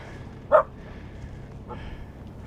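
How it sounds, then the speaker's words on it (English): A single sharp dog bark rings out near a boat at anchor, followed a second later by a fainter bark-like echo from the shore or another boat, over steady low ambient noise. "You're hearing your own, they're barking, and then I hear an echo from either the shore or the other boat,"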